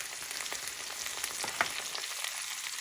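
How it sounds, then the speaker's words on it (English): Green beans with garlic sizzle steadily in a hot pan, a close, continuous crackling hiss with occasional small pops. "And you hear that sizzling?"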